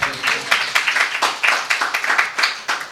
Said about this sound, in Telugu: చప్పట్లు కొట్టి ప్రభుని స్తుతిద్దాం.